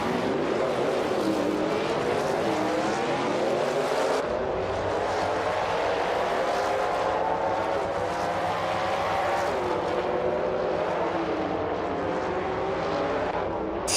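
Race cars in a video game roar past in a dense, continuous wall of engine noise, with layered rising and falling engine tones as several cars battle closely, loud and unbroken throughout.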